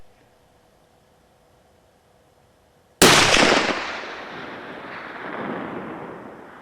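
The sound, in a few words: deer rifle gunshot during test shooting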